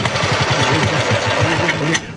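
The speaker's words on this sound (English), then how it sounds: "Now, start the engine for me, Arthur." Bus engine in a 1970 comedy setting, starting and then running at idle with a rhythmic low chugging pulse, fairly loud and close, cutting off near the end.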